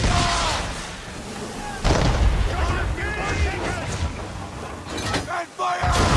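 Ship cannons fire in a naval battle in Assassin's Creed 3, with booming blasts over constant sea and battle noise while shouting voices carry on throughout.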